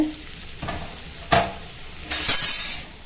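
Chopped onions sautéing in oil in a pan, with a few sharp spatula scrapes and clinks over a low, steady sizzle, close by and with no talking.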